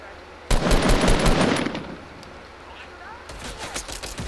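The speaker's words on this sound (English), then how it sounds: "They just start shooting." Fortnite gunfire rings out as a burst of rapid shots lasting about a second, then fades to low game ambience before a second shorter volley of shots near the end.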